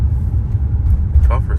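A Mercedes-AMG C43 engine gives a deep, steady low rumble from inside the car, with voices talking over it throughout.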